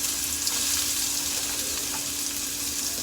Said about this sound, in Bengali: এখন আমি ওই মধ্যে আরেকটু তেল দিয়ে পেঁয়াজ ভেজে নেব